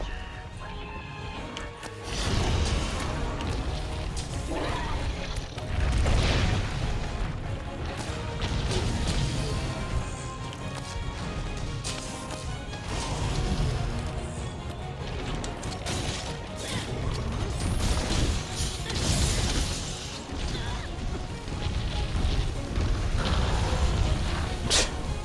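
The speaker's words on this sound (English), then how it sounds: "He just hit himself with one of his own explosions." Monster explosions in Monster Hunter World: Iceborne, a run of loud crashing blasts and heavy impacts that keeps up with little break through a dense stretch of game battle noise.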